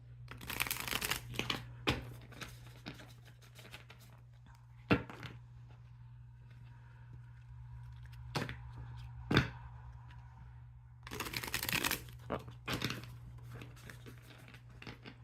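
Tarot cards are riffled and shuffled in several bursts, crisp fluttering rasps separated by quiet pauses and soft taps, heard up close in a quiet room.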